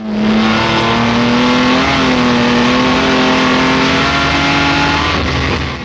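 A Jaguar D-Type racing car's engine roars loud and close at full power through a corner held in third gear, a sustained steady drone that rises slightly in pitch.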